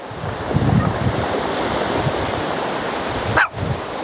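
Ocean waves surging onto a rocky beach, a loud, continuous wash of surf with wind buffeting the microphone and a brief dip near the end.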